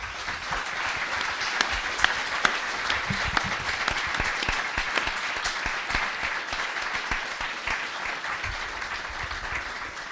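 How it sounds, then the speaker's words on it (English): An audience at a London panel event applauds the panelists, a steady spread of many hands clapping that carries on for about ten seconds. "if we can give a round of applause for everybody who came"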